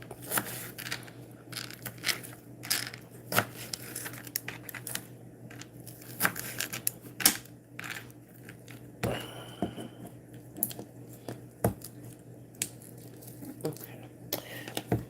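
Lemon pieces cut and pressed into a cup, heard as close, uneven crunching, squishing and tearing bursts with soft taps, plus a brief higher scraping note mid-way.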